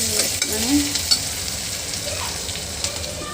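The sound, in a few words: onions frying and being stirred in a pan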